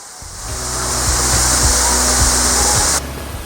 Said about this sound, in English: Next stop to the Toraille Waterfall.